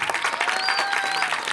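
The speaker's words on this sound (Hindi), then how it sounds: "ये हमारे खालिद शेख साहब के लिए बहुत सारी ताली बजाई" Audience at a stage drama performance applauding steadily for the director, dense clapping throughout with a faint tone line running through it.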